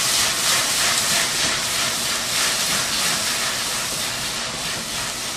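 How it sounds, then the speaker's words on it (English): Liquid containing alcohol simmers in a pan, giving a steady, fairly loud hiss and fizz that continues evenly without talk. "let it come to a light simmer and let the alcohol cook out"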